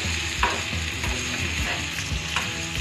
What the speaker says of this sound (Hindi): अब हम इसमें बेबी पोटैटोस डाल देंगे हम इसे अच्छे से फ्राई कर लेंगे